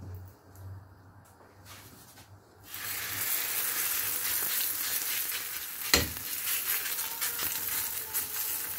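Msemen flatbread frying in oil in a pan, a quiet pause then a steady bright sizzle that starts suddenly and continues, with a brief tap near the middle.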